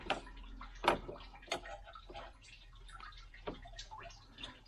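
Coolant draining from the bottom of a 2007 BMW 328i E90 engine during a water pump and thermostat replacement: a faint, uneven trickle and drip with scattered small clicks and knocks close by.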